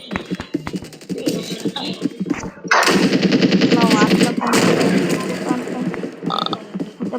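Sustained machine-gun fire from a video game plays as loud, dense rattling bursts, with mechanical clatter between them and a voice talking over parts of it.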